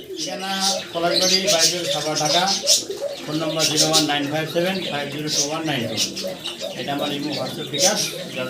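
Many pigeons coo in a crowded loft at a pigeon seller's, their soft throaty calls running steadily underneath a voice.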